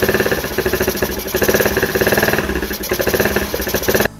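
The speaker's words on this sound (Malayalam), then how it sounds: "സ്കൂട്ടറിൻ്റെ എയർ ഫിൽട്ടർ ഇല്ലാതെ സ്കൂട്ടർ സ്റ്റാർട്ട് ആക്കി കഴിഞ്ഞുള്ള എഞ്ചിൻ സൗണ്ട് ഒന്ന് കേൾപ്പിച്ചുതരാം." A scooter engine running with its air filter removed, a loud, steady rattling idle with a rapid throbbing pulse, close up and alone for the whole stretch.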